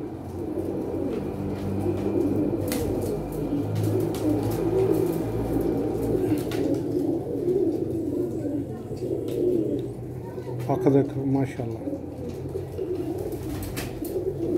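Teddy pigeons coo in a continuous low, throaty stream nearby, with occasional wing flaps and chirps, while someone speaks over the birds.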